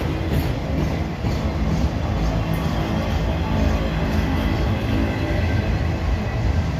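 A freight train of double-decker rail cars rolls past close by, a loud, steady rumble and rattle of wheels and car bodies that holds without a break.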